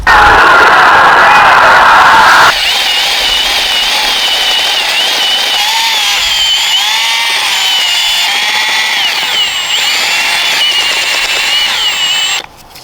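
A loud, high-pitched power drill whines continuously, its pitch wavering as it works, with a brief louder burst at the start.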